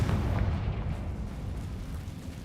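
A Confringo blasting spell goes off in a Harry Potter video game, a deep rumbling boom that holds steady and loud across the whole moment with no talk.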